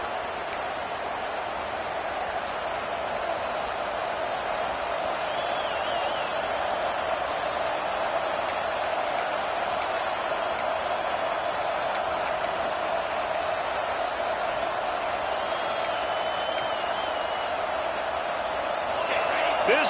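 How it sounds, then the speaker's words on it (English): A College Football 26 stadium crowd roars as a steady, continuous wash of noise throughout, with no breaks or swells. "This crowd bringing the energy and noise early."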